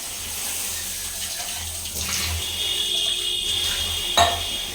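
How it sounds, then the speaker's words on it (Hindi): Water is poured into a metal puja vessel for a Hindu deity, a steady splashing trickle with a faint ringing as it fills, near and fairly quiet, ending with a brief clink. "ये ठाकुर जी का बर्तन है, तो इसको हम पानी इसमें थोड़ा डाल देते हैं"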